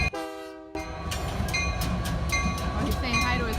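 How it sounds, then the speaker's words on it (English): A train horn blares a sustained tone, then a passing train rumbles close by with rhythmic clickety-clack of wheels on the rails, loud and continuous. "Train passing by."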